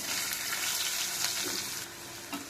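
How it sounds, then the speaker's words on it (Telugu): Onions frying in a pan give a dense, bright sizzle that holds steady and close, then eases slightly near the end, with a few soft stirring scrapes and no talking. "ఉల్లిగడ్డలు ఫ్రై అయినాయి."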